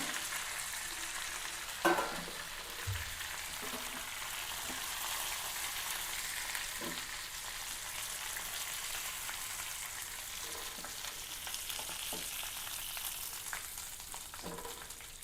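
Tandoori chicken pieces frying on a low flame and being turned over, a steady soft sizzle running throughout with occasional clinks and scrapes from handling, fairly quiet and without talk.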